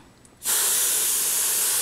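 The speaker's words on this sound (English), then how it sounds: "And you just give it a spray." A short, loud burst of hiss from a spray can aimed at a handmade card starts abruptly after a quiet moment and holds steady.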